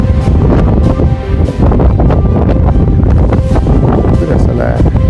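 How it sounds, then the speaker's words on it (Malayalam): Strong wind buffets the microphone at Aint beach in Muscat, a loud, steady roar of gusts with rumbling low-end blasts that barely let up, under a fairly open seaside setting near a bridge. "നല്ല കാറ്റുണ്ട്. മൊബൈൽ പറന്നു പോകുന്ന മതി."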